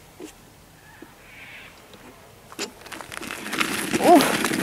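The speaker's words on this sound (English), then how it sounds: "Can you hear them squawking?" Crows cawing outdoors at dusk, harsh calls building in the second half and growing louder near the end over rustling and footsteps.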